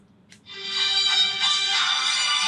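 Mobile phone ringtone starting abruptly after a faint tick, a bright electronic tone sounding steadily and fairly loud with no voices over it.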